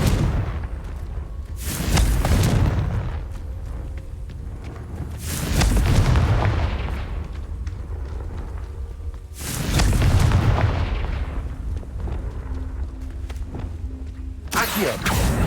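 Confringo spell explosions in the Hogwarts Legacy video game: four loud booming blasts land at regular intervals, each with a rumbling tail that fades before the next, with faint game sounds between them.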